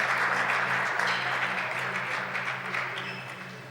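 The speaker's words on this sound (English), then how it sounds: "and applause then" A darts crowd applauds after a long rally at a tournament, dense clapping that stays steady and then slowly fades, with no voices on top.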